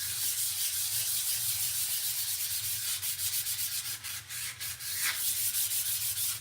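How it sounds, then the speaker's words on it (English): A wooden decor tray is lightly sanded by hand, with a continuous soft rasping rub that breaks into short strokes toward the end and has no talking over it. "So I just sand it lightly."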